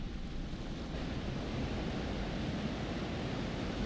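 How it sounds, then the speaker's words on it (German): Water spilling steadily onto a wheel in Until Dawn, a constant broadband rushing wash with no breaks, fairly soft and even throughout. "wo Wasser auf so ein Rad runterkommt"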